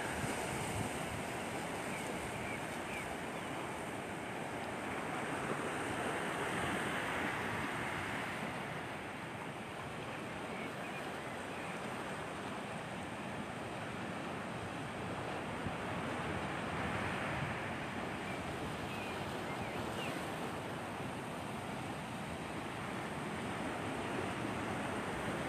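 Sea waves wash steadily onto a beach at a seaside campsite near Mohammedia, a continuous surf roar mixed with wind buffeting the microphone, with no voices.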